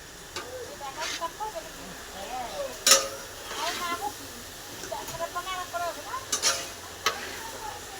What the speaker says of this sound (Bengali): কাকা এখন লাবড়া রান্না করছে।